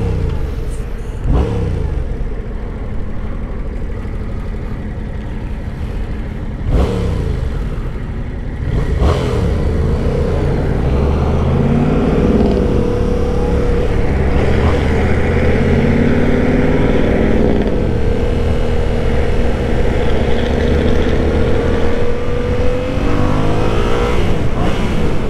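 A car cruising along an interstate highway gives a steady, loud engine and road drone throughout, with tire and wind noise building as it holds speed.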